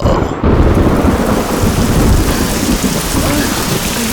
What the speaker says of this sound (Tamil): ஐயோ மழை ரொம்ப அதிகமா இருக்குடி